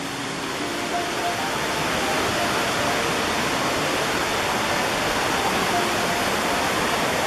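Chittenango Falls and Chittenango Creek, a waterfall feeding a trout stream in a gorge, roar as a steady, broadband rush of falling water that stays loud and unbroken throughout.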